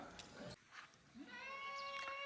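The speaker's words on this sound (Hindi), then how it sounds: "तो बहुत सारे बच्चे भी आए हैं बकरी के।" Young goat kids bleat once in a drawn-out, wavering cry near the end, fairly faint, after scattered thumps and muffled background voices.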